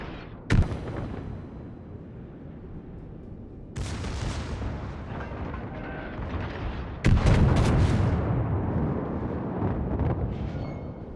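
Three heavy battleship salvos from the Großer Kurfürst in World of Warships, aimed at a Yamato. Each deep boom is followed by a long, rolling rumble that fades before the next shot.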